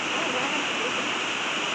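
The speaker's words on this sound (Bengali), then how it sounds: "কি জোরে বৃষ্টি শুরু হয়ে গেছে।" Heavy rain pours down steadily under a dark, clouded sky, a dense, loud, unbroken hiss with no pauses and no voices.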